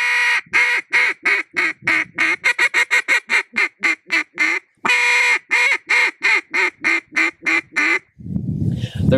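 A competitive caller blows a duck call, imitating a hen's quacks in a loud, rapid descending series of about two dozen nasal quacks with a brief pause partway, then a sudden stop followed by low rumbling.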